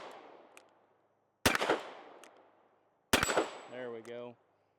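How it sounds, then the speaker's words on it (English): Single-action shots from a Korth Ranger revolver: two sharp, loud gunshot cracks about two seconds apart, each with a decaying echo tail, the second followed by a brief voice-like utterance. "Let's take some more single action shots with her"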